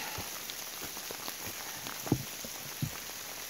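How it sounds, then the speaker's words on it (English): Rain falls steadily around a hiker on a trail, a soft continuous hiss with a few faint close drops and taps. "I don't mind hiking in the rain as long as I'm not cold."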